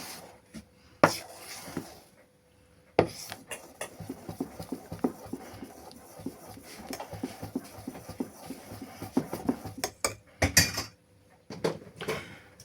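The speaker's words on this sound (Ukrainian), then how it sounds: "одразу ось цей окроп вливаємо в тісто і розмішуємо" Thin pancake batter being stirred in a bowl after boiling milk is poured in, heard as rhythmic scraping and clinking of a utensil against the bowl with a few sharp knocks, fairly close and alone.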